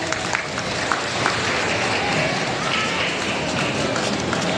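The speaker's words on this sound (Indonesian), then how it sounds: "Ya, tepuk tangan semuanya untuk masyarakat Bidan." A crowd applauds continuously, a dense wash of clapping that holds steady throughout with murmuring voices mixed in.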